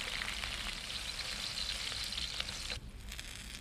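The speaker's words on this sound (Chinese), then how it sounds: "锅内加猪油，化开，放入葱白，炸出葱香味。" Scallion whites frying in melted lard in a wok, giving a dense, steady sizzle that crackles close up and drops slightly near the end, with no voices.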